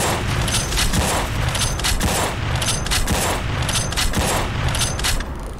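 Rapid volley of powerful sniper rifle gunshots in a video game, loud and close, firing in a steady repeating rhythm with no talking.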